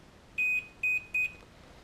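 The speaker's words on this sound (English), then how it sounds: "If there's continuity, you get a beep." A multimeter on continuity test gives three short, clear electronic beeps in quick succession, close and isolated, against a faint hiss.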